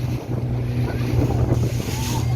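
Sea waves slapping and washing against a small boat out at sea near Pulau Ula, Kaibobu, in Seram Bagian Barat, a steady close rushing wash with heavy wind buffeting the microphone throughout.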